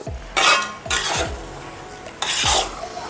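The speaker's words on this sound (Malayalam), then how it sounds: "ഇടയ്ക്കൊന്ന് ഞാൻ ഇളക്കിയിട്ടു" Stirring corn upma in a cooking pot: three scraping, clattering bursts of a spoon against the pot's sides, close and fairly loud, with quiet gaps between.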